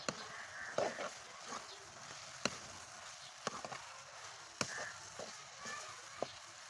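Okra is tipped into a cooked-down tomato masala and stirred for masala bhindi, with a low sizzle under sharp spoon-and-pan clinks and scrapes at irregular intervals, fairly faint and with no voice.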